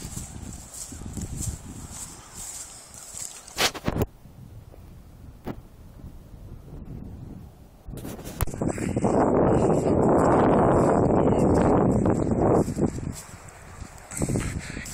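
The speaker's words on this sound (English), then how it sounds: "A little bit windy here today." Blustery wind buffets the microphone in gusts, swelling into a loud, rumbling roar for several seconds before easing off.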